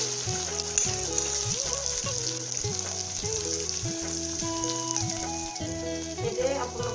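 Onions, ginger, garlic and tomato frying in a pan, a steady close sizzle throughout, with a light rhythmic musical backing beneath it.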